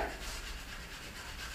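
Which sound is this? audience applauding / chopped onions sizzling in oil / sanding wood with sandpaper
sanding wood with sandpaper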